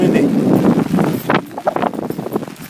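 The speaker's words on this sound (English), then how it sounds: "Oh shit, it's windy." Wind buffets the microphone outdoors with a steady low rumble and gusty roar, loud and close, while a person talks over it.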